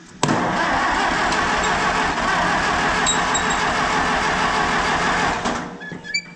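A John Deere 8820 tractor engine cranks, catches and settles into a loud, steady idle, then cuts off abruptly near the end, followed by a few faint clicks.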